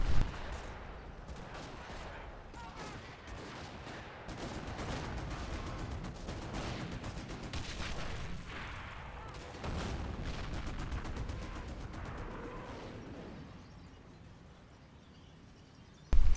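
Artillery barrage and gunfire rumble through a World War II-style war video game, a dense, continuous spread of rapid shots and deep booms that swells and eases over several seconds, steady and fairly loud.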